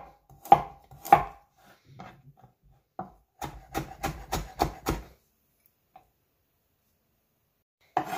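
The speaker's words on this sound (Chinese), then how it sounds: "首先将胡萝卜切成细丝。" A knife chops a carrot into thin strips on a board, a few sharp isolated cuts followed by a quick run of about six evenly spaced chops, then silence and one last faint tap.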